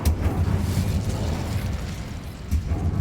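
An Incendio fire spell cast in Hogwarts Legacy makes a loud, steady roaring blast with a deep rumbling low end that runs for the whole stretch and swells briefly near the end.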